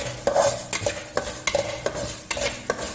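Ingredients roasting in a pan until brown, being stirred with a spatula in repeated scraping strokes over a light sizzle, close and moderately loud with no talking.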